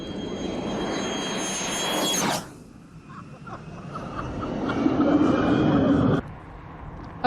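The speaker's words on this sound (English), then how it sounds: "This Spitfire will be leading the Red Arrows formation, with crucial manoeuvres timed before the crowd." A Spitfire flies over at an air display in London with a loud, broad engine roar that fades briefly, then swells again before cutting off.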